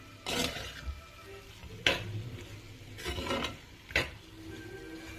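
A spoon works through a thick gongura chicken curry seasoned with pepper powder, making a few distinct scraping, clattering strokes against the pan over a low simmer.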